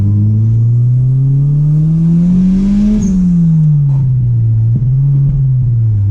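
Turbocharged Acura Integra with a swapped engine pulling hard in second gear, a loud close engine note climbing steadily in pitch for about three seconds, then easing off and settling into a lower drone.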